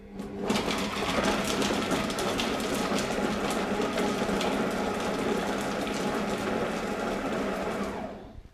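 A Fagor compact connected food processor whirs at speed 5 chopping onion and shallot, a loud, steady motor drone with blade clatter that starts abruptly and stops after about eight seconds.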